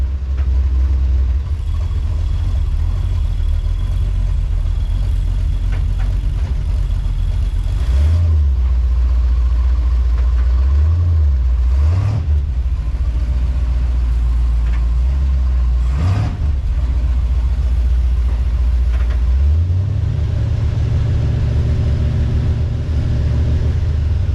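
A 1984 Chevy Silverado pickup with a swapped-in 350 V8 idles with a steady low rumble, close by, and is revved in several short bursts, with no talking over it.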